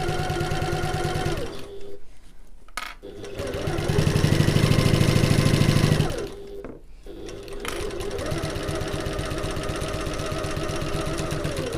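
A sewing machine stitches a seam on a backpack in bursts, its motor whirring steadily then speeding up loudly in the middle before easing off, with short pauses between runs.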